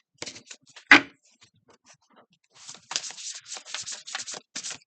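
A favourite oracle card deck with gold embossing gets shuffled: one sharp papery snap early, a quiet gap, then a run of quick close rustling riffles that continues to the end.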